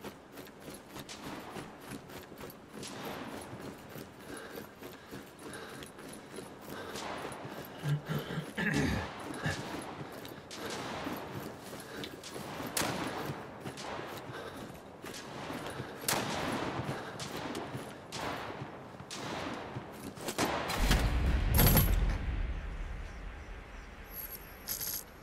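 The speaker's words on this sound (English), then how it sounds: "Someone's firing like a madman." Rapid gunfire in Sniper Ghost Warrior 3 multiplayer team deathmatch rattles on as dense, sharp shots in uneven bursts, with metallic clicks and a louder heavy impact near the end.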